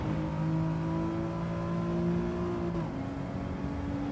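A race car in Gran Turismo 7 powers out of a corner, its engine note climbing steadily in pitch, dropping briefly at a gear change, then climbing again, loud and close.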